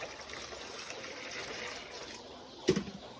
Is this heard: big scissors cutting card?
no